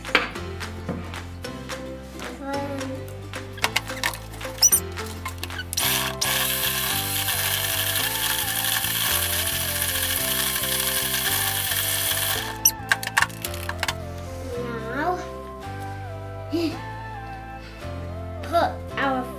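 An electric mixer whirring through banana cupcake batter made with sugar, yogurt and vanilla, in short on-off bursts with clattering and then a long continuous run in the middle.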